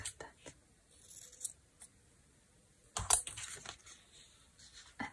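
Scissors snip through a few strands of material for an eco-printing craft project, with a handful of short, crisp cuts spread across a few seconds, close and fairly quiet.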